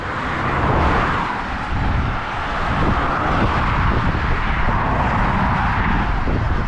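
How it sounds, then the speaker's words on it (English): Loud road traffic races past a petrol station forecourt in Hungerford, a continuous heavy roar of passing cars and engines close by, swelling and easing slightly as vehicles go past, with no voices. "so that traffic's really loud."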